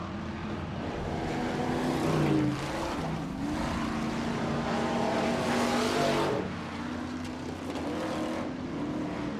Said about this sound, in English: Very high rev. Maybe a transmission issue, who's to know?